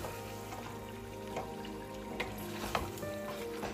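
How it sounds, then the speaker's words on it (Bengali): Fish tails and heads sizzle in hot oil and spices inside a pressure cooker, a steady close frying crackle with a few sharper spits and stirring scrapes along the way. "এখন আমি এতে দিয়ে দিব মাছের লেজ এবং মাথাগুলো"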